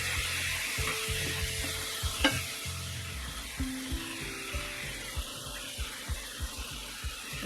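Tomatoes seasoned with salt and pepper sizzle loudly in a pan for an egg and tomato stir fry, while a utensil stirs and scrapes them in a steady rhythm of soft strokes.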